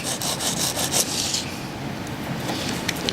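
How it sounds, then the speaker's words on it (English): A soldering gun tip is rubbed against sandpaper to clean it, giving a close, continuous rasping scrape with quick back-and-forth strokes early on that settle into steadier rubbing, with no talk. "You get your tip clean on a piece of sandpaper and your solder gun works a whole lot better."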